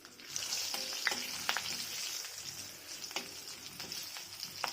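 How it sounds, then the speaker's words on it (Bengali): Whole cloves, cinnamon, green cardamom, a bay leaf and green chillies crackle in hot oil for a Bengali kosha curry, a steady close sizzle with scattered sharp pops and faint stirring, no talk. "তেলটা তেতে গেছে, এতে এবার লবঙ্গ, ডালচিনি, ছোটো এলাচ, তারপর তবে একটা তেজপাতা"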